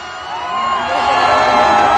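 Large student crowd at Government College University Lahore cheering, whooping and shouting as former prime minister Imran Khan arrives, a dense roar that swells and stays loud throughout.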